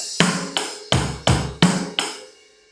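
Cymbal strikes on a drum kit, moving from ride to crash across the kit: six evenly spaced, bright crashes about a third of a second apart, each ringing and decaying, heard alone and close.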